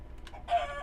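Chickens in the Minecraft modpack Foolcraft give a short cluck, faint and brief, following a soft tick.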